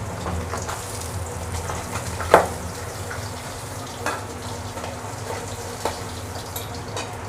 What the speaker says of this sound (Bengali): বাকি মাছগুলো আমি ভালোভাবে ভেজে নেব।